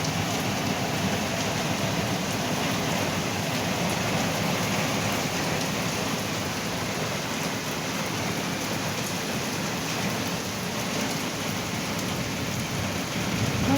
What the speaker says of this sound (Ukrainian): кінця і краю не буде цьому дощу, що буде лить і лить